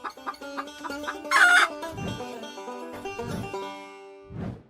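An animated chicken clucks and crows in a run of bright, close calls, with short low thumps between the squawks and a final brief cluck.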